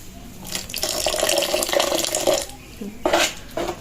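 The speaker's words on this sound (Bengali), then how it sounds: "বন্ধুরা, এই পর্যায়ে আমি আর একটু পানি অ্যাড করব।" Water poured in short bursts into a thick batter for sweet Bengali pua pitha, two splashy gushing pours separated by a brief pause, close and fairly loud with no speech.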